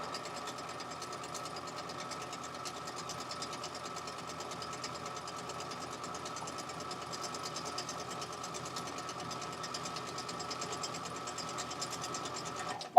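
A sewing machine stitches with bobbin thread in a steady, fast mechanical whir and ticking that runs evenly throughout at moderate, close-up level, with no voices.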